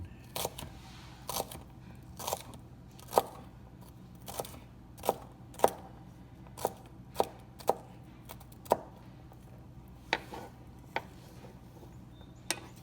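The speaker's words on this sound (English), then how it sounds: "And there's celery, fine diced." A knife finely dices celery on a cutting board in a knife-skills lesson, sharp close taps in a fairly steady rhythm of about one per second over a quiet background, with no voices.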